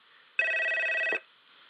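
In an audio drama, a telephone bell rings in one steady, loud burst of under a second, sounding alone against a quiet background.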